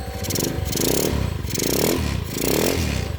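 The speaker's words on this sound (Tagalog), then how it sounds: "Smooth na yung makina ni katugangan mo pare." A motorcycle engine brought back to life after two years of storage runs steadily at idle, its loud, smooth throbbing rising and falling in three gentle surges, close by with no talk over it.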